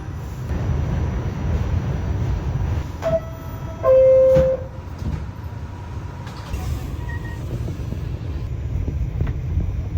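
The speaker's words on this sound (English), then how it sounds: "That was not a bad train ride at all." A New York City subway train rumbles steadily with low droning noise, a few brief tonal chimes and squeals near the start, then continues rolling.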